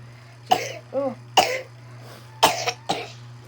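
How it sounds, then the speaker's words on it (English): Several harsh coughs come in bursts, close and loud, with short pauses between; a brief word is spoken at the start. "that's a terrible cough."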